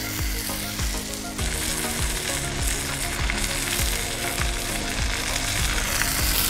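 Steak searing on a hot Blackstone griddle, a loud, steady frying sizzle that runs the whole way through, with a faint repeating ratcheting tick underneath and no talking.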